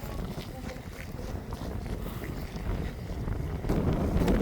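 Strong wind at a pink lake in Australia buffets the microphone with a constant low rumble, growing louder toward the end, with no clear speech.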